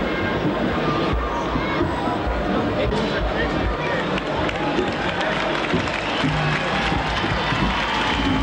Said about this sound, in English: Getting a little bit of applause.